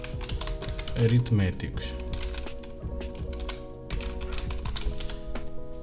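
Typing a code comment in Roblox Studio on a computer keyboard, a quick run of close key clicks that continues under someone speaking.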